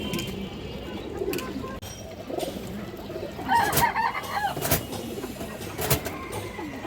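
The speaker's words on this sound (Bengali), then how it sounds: "খুবই সুন্দর একটা মাদি কবুতর দর্শক" A female pigeon at a farm coos softly in a few short warbling bursts, mixed with other bird sounds, light clinks and people talking nearby.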